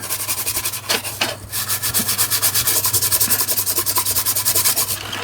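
Close, steady rhythmic scrubbing inside an opened remote control being cleaned, a fast back-and-forth rasping rub that runs almost continuously with only a brief pause, loud and alone with no talk.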